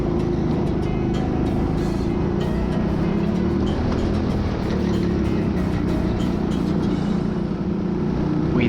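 Go-kart engines drone continuously and loudly from a close onboard position during racing at TeamSport Birmingham, a steady motor hum with no talk.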